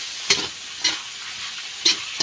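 Spice mixture being stirred in a frying pan, three distinct scraping strokes over a soft steady sizzle, close and clear with no voices.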